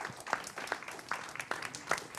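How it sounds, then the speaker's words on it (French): An audience at a French study-day show applauds a performer, with scattered, fairly faint claps in an irregular rhythm over a quiet room. "je vous demande de l'applaudir très très fort"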